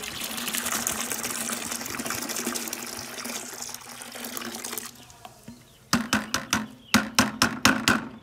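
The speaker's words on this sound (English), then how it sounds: "I'm going to put 2 more of these full of water" Water gurgles steadily as it is poured from a bottle into a container to mix LevelQuick concrete floor primer, a continuous close pour that stops and then gives way to a string of rhythmic glugging splashes.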